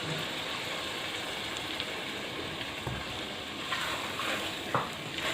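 Yogurt being stirred into fried chicken in a pot with the heat switched off, a steady wet sizzling and scraping stir that runs throughout, close and even, with no talking.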